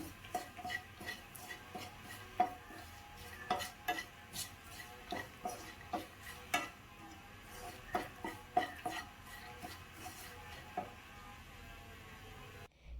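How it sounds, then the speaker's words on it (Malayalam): Stirring Kerala-style mango pickle after chili powder is added, a spoon scraping and clinking against the pot in an irregular rhythm of soft taps and scrapes, close and quiet with no talking. "വീണ്ടും എല്ലാം കൂടെ ചേർത്ത് നല്ലപോലെ ഒന്ന് മിക്സ് ചെയ്ത് കൊടുക്കണം"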